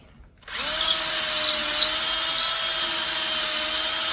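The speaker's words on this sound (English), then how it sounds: "Now I want to drill the length of my" A power drill whines steadily as it bores lengthwise into a wooden fleshing knife handle, its high motor pitch holding constant with slight grinding variations, close and loud.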